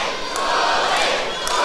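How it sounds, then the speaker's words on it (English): A capacity crowd at a live wrestling event roars and cheers for the challenger, a loud, continuous wash of voices with a few sharp shouts rising out of it. "This capacity crowd getting right behind the challenger"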